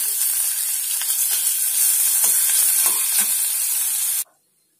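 Sliced onions fry in hot oil for chicken chilli chukka, a loud, steady close-up sizzle with a few faint stirring clicks that cuts off abruptly near the end.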